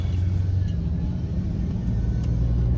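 A 1980 Rolls-Royce Silver Shadow II engine rumbles deep and steady as the car accelerates, a low continuous roar close by with no voices.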